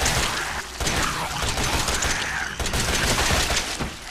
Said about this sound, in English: Let's just waste ammo on this thing,